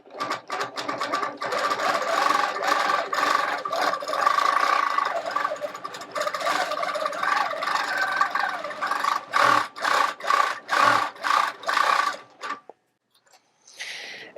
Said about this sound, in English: I'm going to take it over to my machine and we're going to stitch on the top